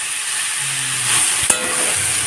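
Onion, tomato and green chili sizzle steadily in a pan over a gas flame turned low, a close, even hiss with one brief clink of a utensil partway through.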